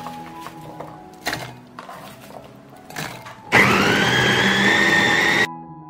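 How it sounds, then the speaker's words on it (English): An electric grinder mincing peeled onions runs in one loud whirring burst of about two seconds, preceded by a few short knocks and clatters and followed by quiet. "I will mince the onion."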